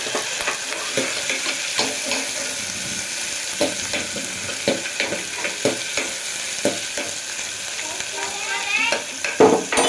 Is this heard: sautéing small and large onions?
yes